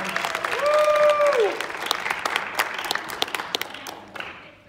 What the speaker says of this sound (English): let's give her and all of these folks a great round of applause